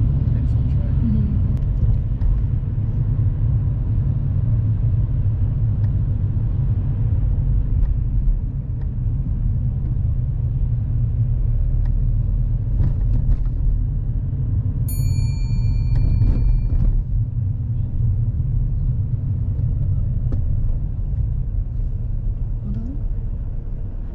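A car drives along a main road during a driving lesson, a steady low rumble of engine and road noise running throughout, with voices talking over it and a brief chime partway through.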